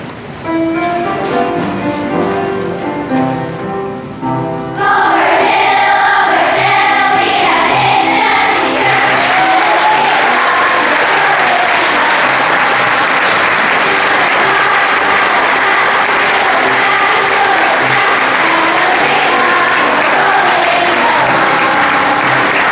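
An elementary school audience at a veterans' program bursts into loud, sustained applause and cheering for standing veterans, a dense roar of clapping that follows quieter music and holds steady to the end.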